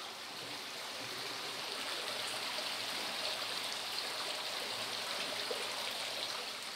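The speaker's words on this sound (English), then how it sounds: "Water is flowing into a pond." Water pours steadily into an underground pond inside a cave, a continuous rushing wash with no talking.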